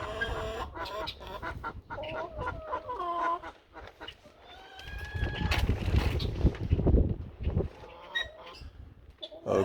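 Many chickens cluck and chatter close by, overlapping calls with rustling and shuffling in an enclosed space, growing busier toward the end.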